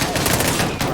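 Rapid gunfire from Call of Duty Modern Warfare 2019 crackles in a loud, fast string of shots lasting about a second, close and dense.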